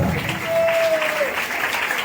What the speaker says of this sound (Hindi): आपकी तालियों के साथ